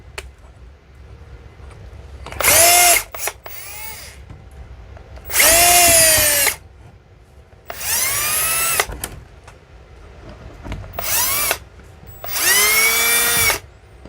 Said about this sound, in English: I'm basically unscrewing these, which they're super loose.